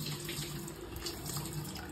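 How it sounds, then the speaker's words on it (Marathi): Water runs steadily from a tap fed by a motor pumping from a tank out back, a soft, continuous gush heard on its own at low volume. "बघा हे बटन चालू केलं की पाणी लगेच येते"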